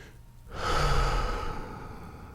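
A single deep breath drawn in close to the microphone, a soft airy rush that swells and slowly fades over a couple of seconds.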